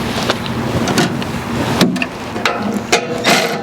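A ratchet turns a shiny silver bolt on an Ariens Path Pro 208cc single-stage snow blower with a surging engine, sounding as a string of quick metallic clicks and clacks up close over steady background noise.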